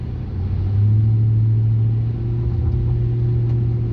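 A 2009 Ram 2500 pickup truck with a 5.7L engine drives along, heard from inside as a loud, steady low engine drone that climbs a little early on, then holds an even rumble, with no talk.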